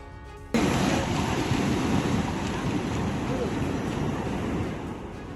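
A waterfall in flood with a fast, dangerous current, giving a loud continuous broadband roar that starts abruptly and holds steady, with wind-like rushing throughout.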